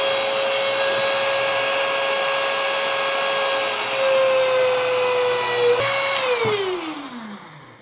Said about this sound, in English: And you can see just how easy that was with the Dremel and cutoff tool.